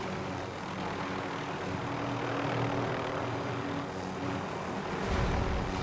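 Steady rotor and engine roar of a helicopter in the Call of Duty: Modern Warfare Warzone video game, a continuous loud drone with no talk.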